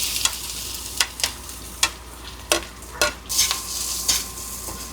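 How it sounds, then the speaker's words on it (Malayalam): Mustard seeds, green chilli and curry leaves frying in hot oil: a steady sizzle punctuated by about ten sharp, close stirring scrapes of a utensil against the pan, spaced unevenly. "ഇതിനകത്ത് കടുക് പൊട്ടിച്ച് പച്ചമുളകും കരിയാപ്പിലേക്ക് ഇട്ട് നല്ല മൂത്ത് വന്നിട്ടുണ്ട്"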